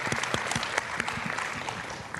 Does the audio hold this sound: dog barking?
no